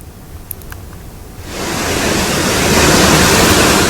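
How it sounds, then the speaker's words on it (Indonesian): A swollen river overflows after heavy rain at Tugu, Cisarua, in the Puncak area of Bogor, West Java. The rushing water starts as a muted background and surges into a loud, continuous roar that fills the space. "Hujan deras yang terjadi di wilayah Bogor membuat air sungai meluap."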